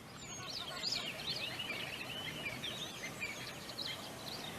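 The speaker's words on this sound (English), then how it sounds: "tune into those birds and the sounds of nature, the air moving through the trees" Birdsong chirps and trills steadily outdoors amid a soft wash of nature ambience and moving air through trees, several birds calling at moderate distance without pause.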